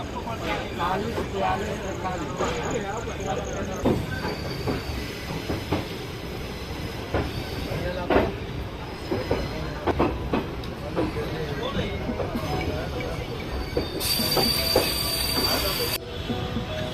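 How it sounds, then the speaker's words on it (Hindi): A passenger train pulls out of Varanasi Junction, its wheels rumbling and squealing on the rails in a steady loud wash, with voices talking and a brief high hiss near the end. "हमारी ट्रेन निकल चुकी है वाराणसी जंक्शन से और ये है इस ट्रेन का डिपार्चर।"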